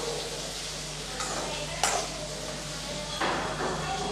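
Onions sauté in a pan with a steady background sizzle over a low hum, broken by occasional scraping stirs and a few sharp knocks of a utensil against the pan.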